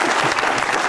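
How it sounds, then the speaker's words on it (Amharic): Brief burst of dense clapping from a studio audience for a contestant in a festive holiday quiz show, loud and close, cut short. "አጨብጭቡላት"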